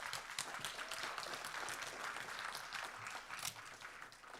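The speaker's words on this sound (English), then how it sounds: "Let's give him a round of applause." Applause from a school board meeting audience honoring a student, a dense continuous patter of many hands clapping at a moderate, slightly distant level for several seconds with no speech over it.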